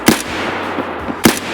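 Two sharp SKS rifle shots in Escape from Tarkov, over a second apart, each a loud, punchy crack with a brief tail against quiet background ambience.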